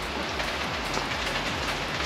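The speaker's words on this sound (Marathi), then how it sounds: "पाऊस काही थांबायचं नाव घेत नाहीये," Heavy rain pours down in a dense, unbroken hiss of drops hitting surfaces, steady and loud across the short stretch with no voices.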